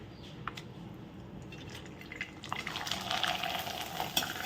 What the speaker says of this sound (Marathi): तर हे मी आता तळून दाखवते तुम्हाला